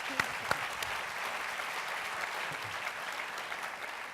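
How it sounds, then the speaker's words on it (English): An audience at a marketing capstone event on the future of brands applauds, a steady wash of many hands clapping at moderate distance for several seconds, with a couple of sharper claps near the start. "I think another round of applause is due"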